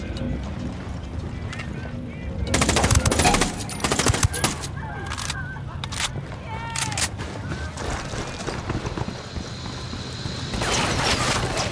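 Gunfire in Ghost Recon Wildlands, a dense mid-clip flurry of sharp shots amid busy outdoor game ambience with hoof-like clatter, continuing in scattered pops afterward.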